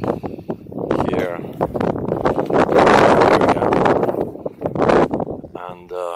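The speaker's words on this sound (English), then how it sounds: "Today is quite windy day" Gusty wind buffets the microphone outdoors on a windy day, a rumbling, blustery roar that swells and fades in strong bursts while a voice speaks briefly underneath.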